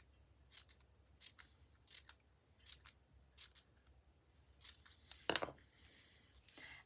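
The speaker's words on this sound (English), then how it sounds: "So then just fussy cutting around your 4 petals." Scissors snip steadily through paper while fussy cutting around flower petals, a crisp regular series of close, quiet cuts ending in a louder final snip, with no talking.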